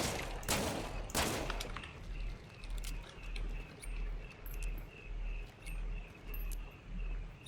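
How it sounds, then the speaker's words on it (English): Gunfire in a video game: two loud, sharp shots close together at the start, followed by a steady, rhythmic low pulsing and faint ticking in the background. "I'm just gonna shoot to shoot."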